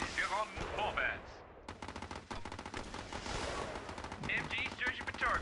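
Rapid machine gun bursts from the strategy video game Battle Islands Commanders, dense crackling automatic fire that runs almost continuously, with brief voiced game chatter at the start and end.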